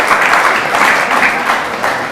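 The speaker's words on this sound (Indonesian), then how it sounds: "Beri tepuk tangan yang meriah bagi Tuhan Yesus." A church congregation in Kana, Israel claps steadily, a dense even wash of applause with no gaps, close and loud throughout.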